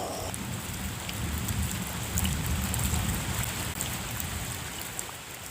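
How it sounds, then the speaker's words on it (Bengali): Heavy rain pouring as a sound effect, a dense, constant wash of falling water with a deep rumbling undertone, steady from start to finish, with no voice over it. "সকাল থেকেই বৃষ্টি হচ্ছে"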